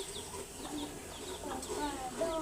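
Hens clucking in a rural village yard at dusk, a few soft, scattered clucks and short calls at moderate distance over quiet ambient background, no speech.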